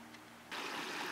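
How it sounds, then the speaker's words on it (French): A small mountain stream in the Montagne Bourbonnaise in February suddenly rises into a steady, close rush of flowing water after a quiet moment. "Voici le ruisseau que nous traversons."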